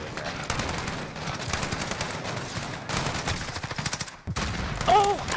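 Gunfire in the Call of Duty Spec Ops video game: rapid bursts and volleys of shots crackle across the scene, dense and loud, easing briefly before another burst at the end.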